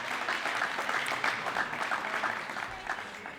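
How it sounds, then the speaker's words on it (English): Ceremony crowd at an Earth Day celebration clapping steadily together, a dense sustained patter of many hands that holds level and tapers slightly near the end. "one more round of applause"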